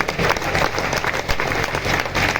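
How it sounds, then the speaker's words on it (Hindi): A crowd at a Hindi poetry recital bursts into loud, dense applause, continuous clapping close by with a few louder individual claps standing out. "आपकी तालियां कमजोर है।"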